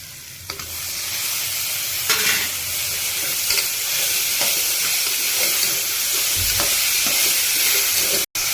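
Browned onions, tomato and green chilli sauté in oil in a pan for paruppu sadham, a loud, continuous sizzle and hiss with occasional scrapes and stirring knocks, close up.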